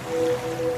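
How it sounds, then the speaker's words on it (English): Ocean waves used as a sound effect in a detergent advert, a brief steady wash of surf with a faint tonal hum running through it, no talking. "now you're drifting asleep to the scent and sound of waves"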